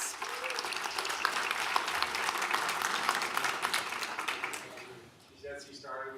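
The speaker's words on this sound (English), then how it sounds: "Let's give her another round of applause." Audience applause at a county board of supervisors meeting during service awards, a crowded patter of clapping with some cheers mixed in, fading near the end as a voice begins to speak.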